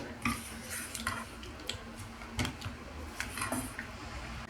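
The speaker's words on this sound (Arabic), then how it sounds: "غادي نضيف عليها الشوكولاط 200 غرام وغادي نحرك مزيان حتى كيذوب." A utensil stirs 200 grams of chocolate into warm cream in a pot so it melts, with scattered close clinks and scrapes against the pan over a low steady background hum.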